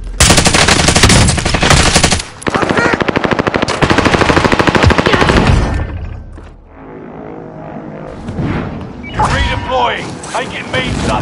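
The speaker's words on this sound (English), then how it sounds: "Taking direct fire!" Loud, rapid machine gun bursts from a first-person shooter video game, dense continuous fire that cuts off and gives way to quieter game effects and scattered shots, with a voice speaking over it.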